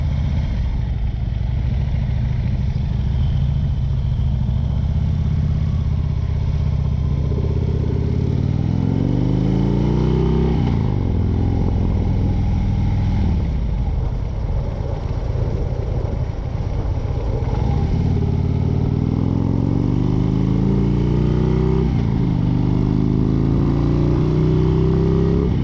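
Motorcycles of arriving bikers rumble and rev close by, with engine pitch rising and falling over a constant mechanical roar.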